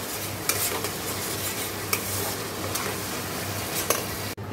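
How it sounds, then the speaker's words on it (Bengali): Chicken and masala sizzle in a hot pan under steady stirring, a dense continuous frying hiss punctuated by a few sharp scrapes of the utensil, close up with no voices. "এই যে চিকেনটা ধুয়ে রেখেছি, দিয়ে দেবো একটু কষিয়ে।"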